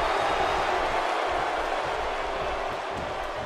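A packed wrestling arena crowd in WWE 2K17 keeps up a steady, dense roar. The broadband wash holds at an even level for the whole stretch, with no single voice standing out.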